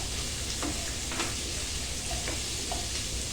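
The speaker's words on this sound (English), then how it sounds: "in go the onions." Chopped onions sizzle and crackle in a hot frying pan for a chicken coconut curry, a constant dense hiss with occasional stirring scrapes and pops, heard alone.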